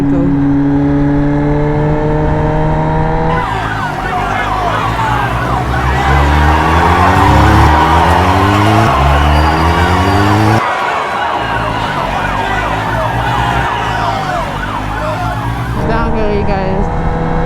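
MV Agusta Brutale 1000RR motorcycle at speed on a motorway: a loud, continuous engine note climbing and falling through the gears, with strong wind roar throughout.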